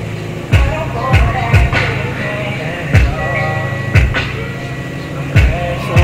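A JBL Stage 1010 car subwoofer driven by a Kinetic KD-800.1 amplifier plays bass at home, producing loud, deep thumps that repeat at irregular intervals over a continuous layer of music.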